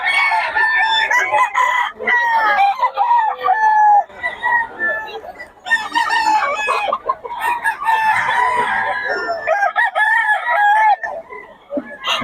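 Roosters crow repeatedly and hens cluck at a busy gamecock market, with many birds calling close by and overlapping. Voices can be heard faintly in the background.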